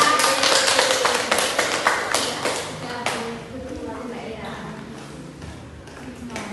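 Students in a classroom clapping after a presentation, a lively burst of close hand claps that gradually thins out and trails off, with faint murmuring beneath.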